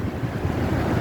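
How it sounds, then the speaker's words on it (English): Strong outdoor wind buffets the microphone with a steady, loud, low roar that carries through the whole moment, with no voices. "it's really windy"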